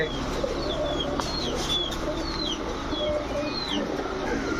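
Racer pigeons, including white racer males, coo low and steadily nearby while sharp chirps from other birds flicker overhead through a constant ambient wash.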